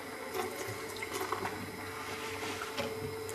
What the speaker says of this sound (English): And need to add 1/4 cup of water.